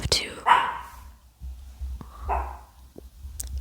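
A dog barks a couple of times nearby, sharp short yelps mixed with quiet whispered speech in a calm indoor setting, with soft breathy sounds between the barks.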